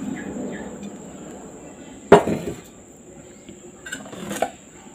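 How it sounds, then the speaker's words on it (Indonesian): A spoon stirs and scrapes through a hot dough mixed with sliced scallions, giving one sharp clack against the bowl and softer scraping clinks after, over a faint steady background hum. "Jadi saya aduk menggunakan sendok terlebih dahulu."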